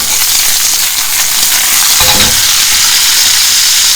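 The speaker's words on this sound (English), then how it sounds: "I can hear the oil trying to scream at me because a couple of drops of water are in there" Hot oil with a few drops of water in it sizzles and hisses loudly in a pan, a continuous close frying roar with a short burst of sharper crackle midway.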